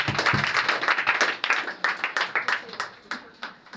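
A church congregation claps together in a steady rhythm of sharp, close handclaps that fades toward the end, with voices speaking over it.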